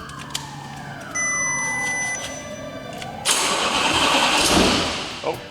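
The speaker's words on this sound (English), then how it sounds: "if I can get the engine to crank, then we're winning" A twin-turbo V10 TDi engine swapped into a Nissan Patrol cranks with a whirring starter, then catches briefly and roars into a loud, rough start before fading, close up.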